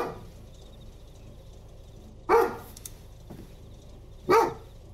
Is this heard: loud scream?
no